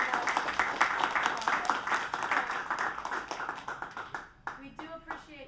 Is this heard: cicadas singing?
no